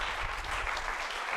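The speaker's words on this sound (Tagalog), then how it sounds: "Palakpakan niya natin si Lord, palakpakan natin si Lord. Yung malakas na palakpak." A church audience applauds loudly to the Lord, a dense, steady wash of many hands clapping together for a brief moment, with no talk over it.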